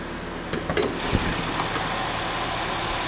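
2012 Chevy Malibu 2.4-liter engine running: a steady close engine hum at idle with a few light clicks early on, no voices.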